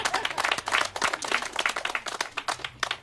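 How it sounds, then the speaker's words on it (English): Audience applause breaks out at a Sacramento city leaders' affordable housing announcement, with dense, loud clapping filling the room for a few seconds. "that's worth a applause"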